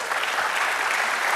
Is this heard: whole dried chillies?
no